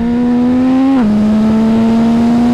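A CFMoto 675 SR-R sport motorcycle engine holds a steady, loud mechanical drone that rises, dips sharply as a gear changes, then climbs again evenly, close and continuous with no talking.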